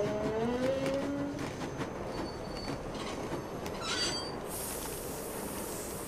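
A train rides on rails in the video game Nancy Drew Last Train to Blue Moon Canyon, a steady rumbling roll with faint rhythmic clicks and a brief high wheel squeal near the start, heard alone.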